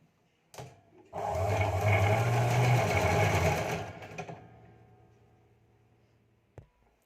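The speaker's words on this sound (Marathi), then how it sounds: "सरळ आता आपल्याला टिप टाकत घ्यायची आहे इथे" A sewing machine stitches a seam on a blouse, running in one loud continuous whirring burst of about three seconds that slows and fades, with a click before and after.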